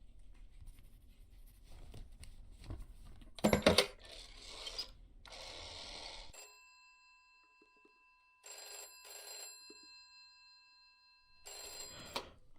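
An old-style telephone bell rings in the video game This Is the Police, with several spaced bursts of ringing after some shuffling and clicking sounds, fairly close and clear against near silence.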